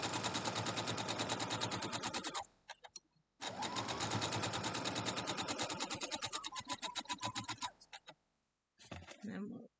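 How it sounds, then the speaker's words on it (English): A sewing machine stitches down a quilt block in fast, steady runs of needle strokes. It pauses briefly near the midpoint, restarts for a long second run, then gives a short final burst. "So let's sew this down."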